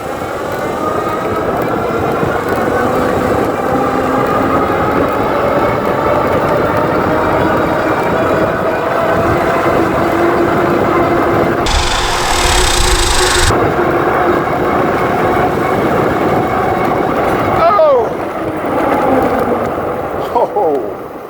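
Cyrusher XF900 full-suspension electric fat bike ridden fast in mode 5 at around 31 mph, with steady loud wind rush and tyre roar throughout, a brief harsher gust midway, and a rider talking over it.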